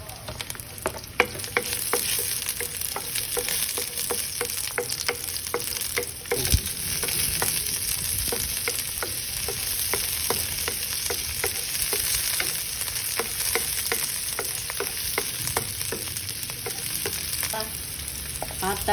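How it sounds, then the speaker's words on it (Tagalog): Garlic and onion sauté in a pan for pata hamonado, giving a continuous loud sizzle close by, punctuated by regular clicking stir strokes of a utensil against the pan. "We're gonna saute the garlic."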